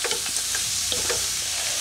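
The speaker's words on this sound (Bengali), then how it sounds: "তো এইভাবেই নাড়াচাড়া করে আমি ভেজে নিচ্ছি সমস্ত কিছু একসঙ্গে" Chickpea greens being stirred and fried together in a pan, with a steady low sizzle under repeated scraping and clattering strokes of a spatula, close and continuous with no talk.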